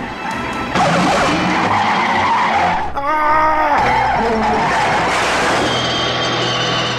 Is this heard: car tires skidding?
yes